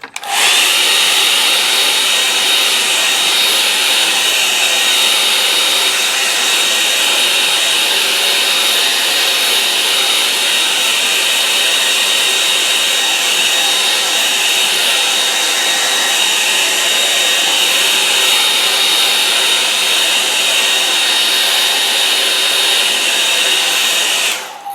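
A hair dryer blows on watercolour paper taped to a board, a loud, steady, close whine with a high hum that runs unbroken for the whole stretch before cutting off at the end.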